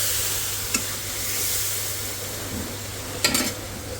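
Spice paste for a fish curry stir-fried in a pan, giving a steady close sizzle with two brief scraping stirs of the spoon. No one speaks.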